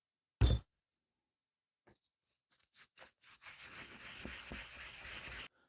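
Sandpaper rubs across a surface coated with homemade paint and primer made from inexpensive craft paint, a faint dry scratching that starts with one sharp knock, then builds from short scattered strokes into continuous close rasping.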